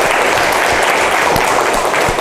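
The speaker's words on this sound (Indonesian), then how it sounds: "tepuk tangan." Steady applause from a classroom group after a student's history presentation in a teacher-training lesson, dense and continuous clapping at close range throughout.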